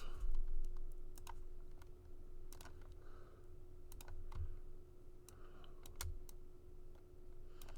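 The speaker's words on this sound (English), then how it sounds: "let me type this up actually" Keyboard typing clicks come in scattered quick bursts over a steady low hum and background rumble, moderately close.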